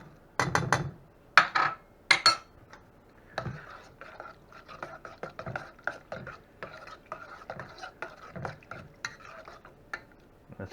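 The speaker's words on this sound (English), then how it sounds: "Throw our meatballs in." Meatballs dropping into a pot of simmering ramen broth with onions, a few soft plops and splashes near the start followed by gentle bubbling and stirring clinks, with quiet talk in the kitchen.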